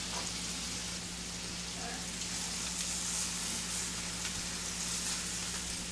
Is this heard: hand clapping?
no